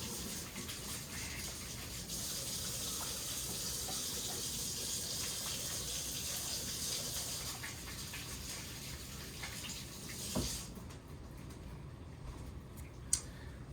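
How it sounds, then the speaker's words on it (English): Tap water runs steadily in a home kitchen while hands are washed, a continuous hiss that cuts off near the end, followed by a couple of small clicks. "Let me wash my hands."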